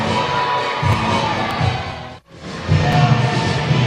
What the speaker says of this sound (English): Davis is absorbing the crowd's boos, and he loves it.